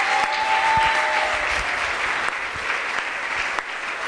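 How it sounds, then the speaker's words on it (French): Church congregation applauding and acclaiming, a broad continuous roar of clapping and cheering filling the room, fairly loud and sustained. "Est-ce qu'on peut acclamer très fort Jésus?"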